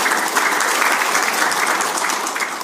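An audience at a health talk breaks into sustained applause, many hands clapping in a dense, even wash that stays loud and steady throughout, with no voices standing out.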